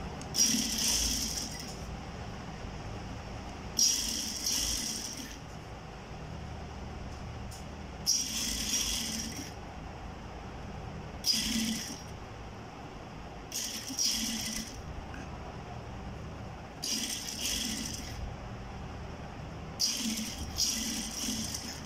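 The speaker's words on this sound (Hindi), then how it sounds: "इस पाइपिंग को इस तरह से ब्रीक ब्रीक बिल्कुल साथ साथ सिलाई लगाते हुए निकाल लेंगे" A sewing machine stitches piping onto a neckline in repeated bursts of rapid, rattling mechanical clatter, each lasting about a second or two and separated by short quiet pauses, close by.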